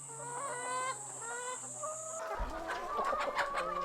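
Chickens cluck and chatter close by in a forest setting, with a steady rhythmic call first, then a burst of overlapping clucks and squawks.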